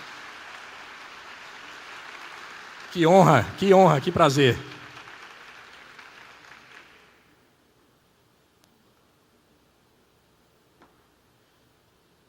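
An audience claps to welcome guests Chantel and Vitor. The steady clapping continues while a voice briefly speaks over it, then fades out at around seven seconds and leaves near silence.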